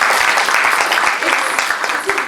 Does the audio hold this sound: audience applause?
yes